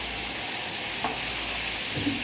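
Vegetables, ivy gourd and potato, sizzle in hot tempering oil with garlic, a steady broadband hiss with a couple of brief stirring knocks, close and alone without talk.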